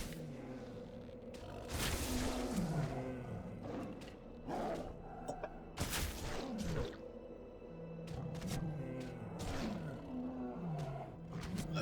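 Big cats roaring in World of Warcraft, deep growls and roars repeating over game combat whooshes and impacts.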